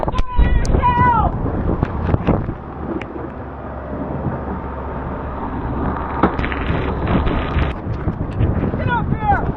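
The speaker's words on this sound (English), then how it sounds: "now we're going to come into some really serious wind" Strong wind roars and buffets the microphone on a sailboat at sea, a continuous heavy rush with gusty surges. Voices shout and talk intermittently over it.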